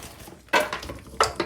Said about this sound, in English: So just spread them all out in your air fry basket.